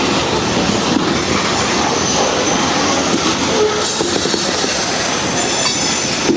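A train rolls past on the Henderson subdivision near the John Rivers Road crossing in Kentucky, its railcar wheels rumbling steadily and loudly throughout, with clickety-clack over the joints and a thin wheel squeal rising partway through.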